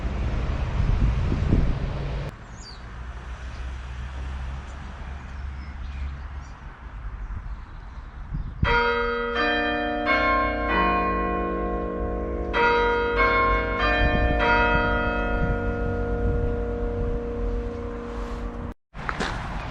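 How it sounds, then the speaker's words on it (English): A village church clock bell in Wrenbury strikes the half hour, its clear ringing tones repeating over several seconds after a stretch of wind noise and distant road traffic, with no one speaking. "I think the clock's about to strike the half hour."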